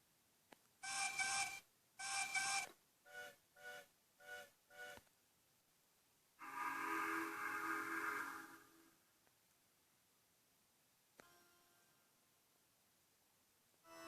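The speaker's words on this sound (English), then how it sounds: "They heard 3 whistles." Three steam engine whistles from ghostly locomotives, sounding as two long blasts and a quick string of shorter toots, then a long louder blast and a faint tail, all alone against a quiet background.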